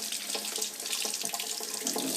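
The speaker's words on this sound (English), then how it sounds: "wash it with warm water until you've got them pretty well cleared the way you think you want them" Warm tap water runs steadily into a sink as electro-chemically etched tools are rinsed under it, a close continuous splashing with small fluctuations as the tools move through the stream, no talk.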